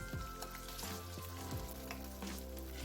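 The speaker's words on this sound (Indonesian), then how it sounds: "Kita goreng udangnya sampai matang." Shrimp frying in hot oil in a home kitchen, a steady dense sizzle and crackle throughout, close and continuous with occasional stirring, no talk.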